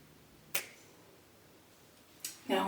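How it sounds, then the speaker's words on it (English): A sharp finger snap cracks out close and crisp, followed about two seconds later by another snap and then a short burst of rustling. "I'm gonna snap my fingers and be in the restroom."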